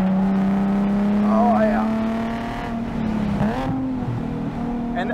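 A mildly modified Nissan 370Z with a VQ engine runs on a race track at a loud steady drone, with revs rising and dipping and brief rev-matching blips, under short in-car talk.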